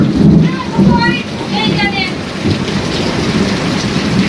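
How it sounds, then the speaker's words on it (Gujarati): Steady heavy rain pours throughout, a dense continuous hiss with voices talking faintly underneath and some tonal background sound. "આટલો વરસાદ ચાલુ છે"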